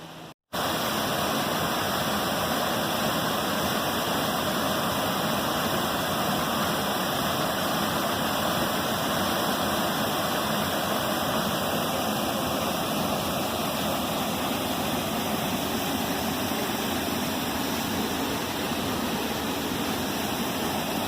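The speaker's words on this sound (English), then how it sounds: "Falls are right on the other side of that big rock." A summer waterfall and river at Isinglass Falls roar in a steady, loud, unbroken wash of rushing water, close by and alone without voices.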